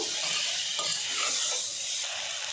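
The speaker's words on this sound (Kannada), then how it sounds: "ಅದನ್ನೆಲ್ಲ ಒಂದ್ಸರಿ ಮಿಕ್ಸ್ ಮಾಡ್ಕೋಬೇಕು." Cabbage and potato curry with masala being stirred in a pan, a steady close sizzle with soft scraping strokes running throughout.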